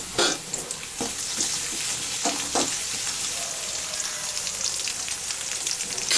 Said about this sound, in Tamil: வெங்காயம் லேசாக வதங்கினதும் பச்சை மிளகாவை போட்டு வதக்கணும்.